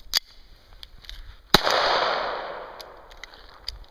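A Sig Sauer Mosquito pistol fires a single sharp shot whose crack rings out and decays over about a second, with a few faint clicks and handling noises before and after.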